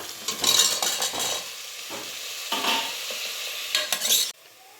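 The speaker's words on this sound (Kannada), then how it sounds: "ಆ ಟೊಮೆಟೊನು ಹಾಕ್ಕೊಂಡು ಮಿಕ್ಸ್ ಮಾಡ್ಕೊಂಬಿಡೋಣ" Potato strips and tomato fry in a pan while a spoon stirs and scrapes through them in bursts, loud sizzling swelling with each stir before the sound cuts off sharply.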